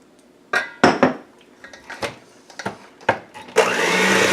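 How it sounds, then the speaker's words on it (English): Bowl and utensil clatters sound in a home kitchen before an electric mixer starts up at the end. It churns sugar cutout cookie dough with flour in a loud, steady, close whir. "mix it with the mixer"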